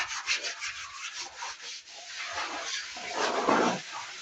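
A solar panel being polished by hand, continuous rubbing and scrubbing strokes with a hissy texture that swells louder toward the end, close by with no talk.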